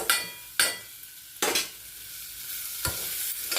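Garlic and horse gram sauté in a pan: four sharp scraping stirs cut through a soft, steady sizzle, with no voices.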